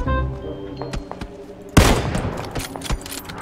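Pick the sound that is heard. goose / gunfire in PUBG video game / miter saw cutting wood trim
gunfire in PUBG video game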